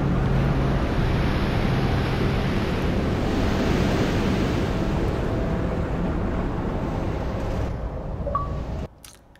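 Ocean waves and surf from the Southern Serano Ocean level of Gears of War 3, a steady, loud wash of rushing water and wind that holds constant for about eight seconds, then fades and cuts out near the end.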